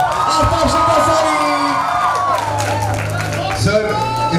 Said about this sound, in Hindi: एक बार तालियां चाहिए जोरदार for the man himself, Aftab Shivdasani